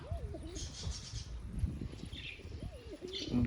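Pigeons on an umbrella-shaped perch in a home courtyard coo close by, two soft rolling calls a couple of seconds apart over quiet background rustling.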